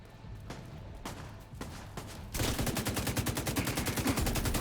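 Gunfire in The Division 2 during a Stovepipe cursed mission, a few scattered shots that give way to a fast, sustained burst of automatic fire at moderate volume.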